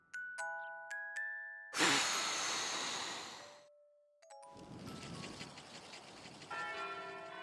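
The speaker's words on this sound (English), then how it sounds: "And then the bell was ringing." Chiming bells from the video game Tokimeki Memorial Girl's Side 4th Heart: a few clear dings open, then a loud, full peal rings out, fades, and a second bright, layered ringing follows, with no voices.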